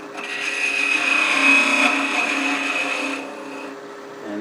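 A wood lathe spinning a wooden cattail while its end is rounded over, a loud steady whirring hum with a scraping tool edge on the workpiece, easing off toward the end.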